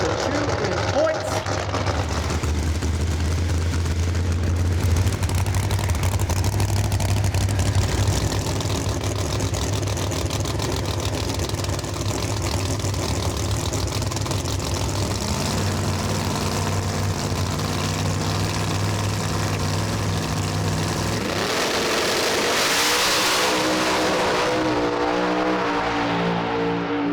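No-prep drag race cars rev and launch down a raceway strip, a loud sustained engine roar with throttle changes and a burst near the end, while an announcer talks over it.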